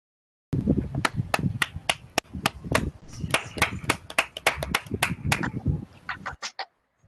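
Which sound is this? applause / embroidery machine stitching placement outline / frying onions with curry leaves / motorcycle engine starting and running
applause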